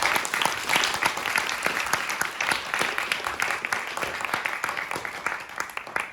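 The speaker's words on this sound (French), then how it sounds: "Je pense qu'on peut applaudir les intervenants" Audience applause for the speakers at the end of a conference panel on the web2-to-web3 transition; a dense, steady patter of many hands clapping at close range, with no talk over it.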